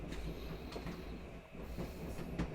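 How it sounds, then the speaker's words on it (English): A freight train rolling on rails in the video game Where the Water Tastes Like Wine, a steady rumbling ride with periodic clicking wheel beats over the track, continuous and fairly close. "Let's hop a train."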